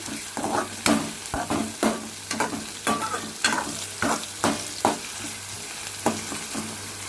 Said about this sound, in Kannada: ಟೊಮೆಟೊನ ಸ್ವಲ್ಪ ಮಿಕ್ಸ್ ಮಾಡಿಕೊಂಡು ಇವನ್ನೂ ಕೂಡ ಸ್ವಲ್ಪ ಫ್ರೈ ಮಾಡ್ಕೊಳ್ಳೋಣ